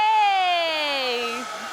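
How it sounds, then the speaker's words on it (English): A hairdryer switched on to blow a ping pong ball upward, its steady whining motor hum and air rush loud and close, the pitch sliding gradually lower over a couple of seconds as it winds down. "The air from the hairdryer is blowing right on the ball, pushing it upwards"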